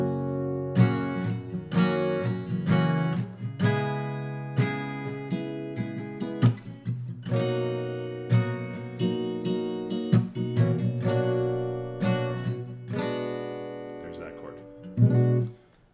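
Strummed acoustic guitar chords from a song, played as a phrase-ending figure, with clear, ringing chord attacks repeating in rhythm for several seconds and a voice faintly present at times.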